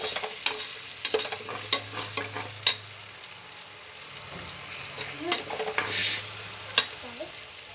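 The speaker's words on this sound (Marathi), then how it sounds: "छान मस्त असं फेटून घ्यायचं" Eggs beaten in a bowl with quick irregular strokes, producing sharp clinks and scraping taps over a low background hum, close and fairly loud with no speech.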